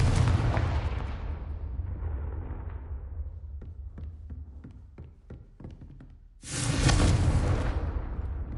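A Confringo fire spell from a video game bursts with a loud, roaring explosion that fades into a string of sharp taps and cracks, then a second explosive blast erupts near the end.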